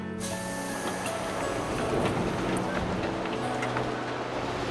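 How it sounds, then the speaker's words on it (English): Train pulling out of Minami Setsuna station in a visual novel scene, with a steady loud rolling rumble of the carriages and faint squeals over it, no talking. "The train left Minami Setsuna at 8:08."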